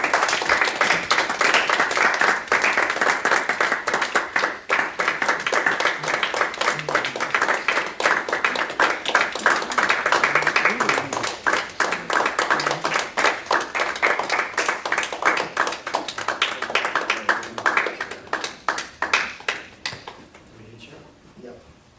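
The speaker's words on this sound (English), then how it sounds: "Let's have one more round of applause here for Claudia" Audience applause for Claudia Mitchell-McLeod at a speech event, a dense, steady wash of many hands clapping that holds loud for about eighteen seconds before thinning out and fading.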